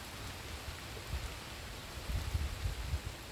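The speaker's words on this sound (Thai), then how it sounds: "เสียงฟ้าก็มาค่ะ เสียงฝนก็มานะคะ" Steady rain hisses softly and continuously, with no voices and a faint low rumble underneath.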